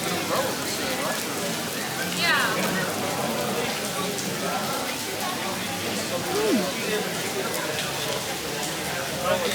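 Rain patters steadily on an umbrella outdoors at the EPCOT Food & Wine Festival, a dense close hiss of drops running throughout while people talk nearby.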